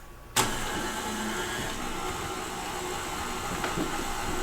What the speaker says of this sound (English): We're going to mix this in our stand mixer